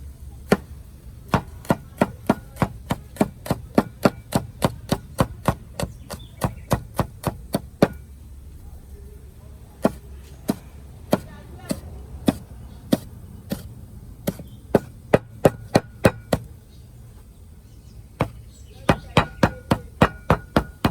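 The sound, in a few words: chopping hot pepper with a knife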